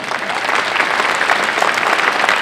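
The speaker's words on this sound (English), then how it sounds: "Please give him a round of applause." Audience applause for a speaker at Alabama State University's Founders Day event, dense steady clapping from a large crowd, loud and continuous throughout.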